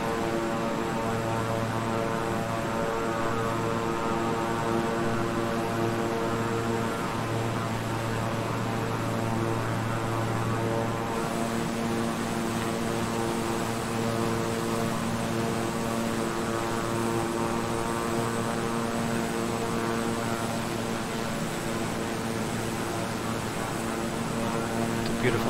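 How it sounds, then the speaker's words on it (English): Steady droning hum of a King Air 350i twin-engine turboprop in Microsoft Flight Simulator as the throttle is eased back, harmonic engine tone continuous throughout, with a low tone dropping out partway. "I'm gonna go ahead and back off the throttle"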